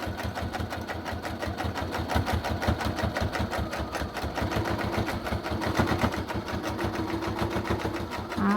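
A sewing machine runs steadily and close by, stitching plaid fabric for a neck warmer, its fast needle chatter holding an even rhythm without pause for the whole stretch.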